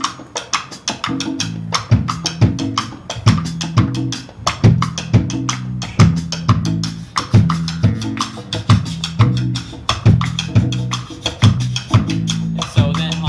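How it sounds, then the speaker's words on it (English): A bass plays a syncopated salsa tumbao, the steady low repeating pattern locked in with crisp percussion hits in a loud, continuous groove, with no talking. "And then the bass comes in with what is called a tumbao."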